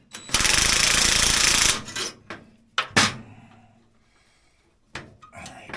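A part on a vintage Polaris Indy 500 Classic snowmobile is tightened with a loud, rattling burst of about a second and a half, then sharp metallic clanks and knocks spaced apart, nearby and with no talking.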